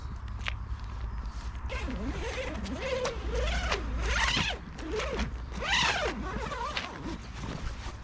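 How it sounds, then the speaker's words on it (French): Long, scratchy zipper pulls open the fabric cover of an electric microlight trike wing, several drawn-out unzipping strokes close by with faint rustling between them. "commence à ouvrir la housse"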